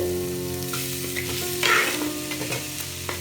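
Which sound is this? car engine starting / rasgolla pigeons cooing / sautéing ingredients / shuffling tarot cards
sautéing ingredients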